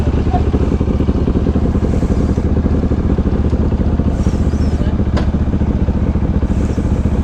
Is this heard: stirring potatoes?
no